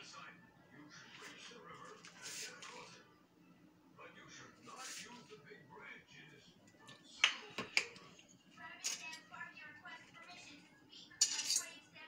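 Cutlery clinks and scrapes against a plate while a pancake is sliced up, a run of sharp close ticks and taps, with people talking quietly underneath.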